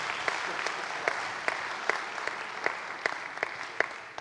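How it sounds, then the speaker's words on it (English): Applause from a concert-hall audience welcoming a guest at a pre-concert talk, a steady dense patter of clapping with a few sharper claps standing out, moderately distant and continuous throughout. "Big round of applause for him"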